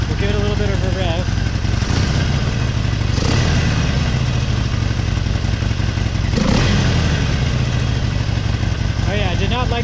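A Harley-Davidson Forty Eight with a new intake runs close by, its V-twin idling with a loud lumpy throb and rising briefly in a few quick revs, while someone talks over it.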